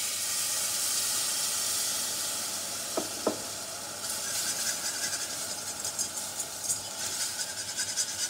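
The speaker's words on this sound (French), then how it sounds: "Je déglace avec le jus de cuisson." Steady loud sizzle and steamy hiss as cooking juice hits a hot pan of fish for a gratin, with a couple of sharp clinks and bubbling crackle building toward the end.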